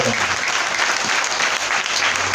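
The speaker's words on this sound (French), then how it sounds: "Applaudissez Seigneur parce que vous l'avez." A church congregation at a Sunday worship service claps together, dense, continuous applause filling the room at steady loudness throughout.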